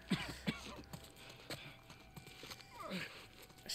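Horse hooves clip-clopping in The Last of Us Part 1 on PS5, several sharp hoof beats in an uneven rhythm at moderate distance, mixed with game ambience and low background voices.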